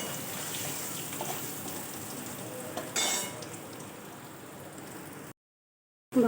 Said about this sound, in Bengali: ভাজা হয়ে গিয়েছে, আমি তুলে নিচ্ছি।